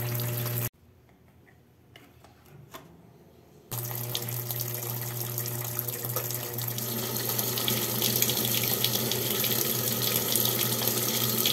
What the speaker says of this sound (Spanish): Miren, así es como cae el agua, no cae mucho.